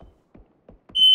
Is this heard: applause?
no